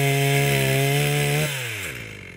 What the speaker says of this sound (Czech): Z plantáže se ozýval zvuk motorové pily.